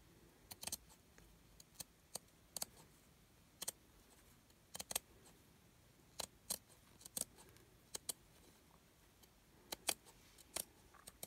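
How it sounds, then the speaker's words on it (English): Scissors trim the edge off a piece of paper in a quiet room. The blades make a series of short, crisp snips at irregular intervals, close and distinct, with no voices. "Cut this edge off."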